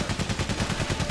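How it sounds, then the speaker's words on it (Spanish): Rapid gunfire from the World War I video game Valiant Hearts, a steady stream of repeated shots like a machine gun burst, loud and continuous for a little over a second with no voices over it. "¿Hasta dónde llegan los tiros ahí?"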